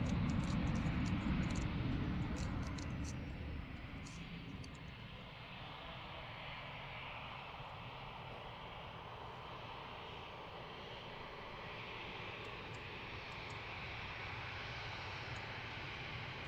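Arriving airliners at Lisbon Airport, a loud, close jet engine roar that fades over the first few seconds into a steady, distant broadband rumble, with faint chirps above it.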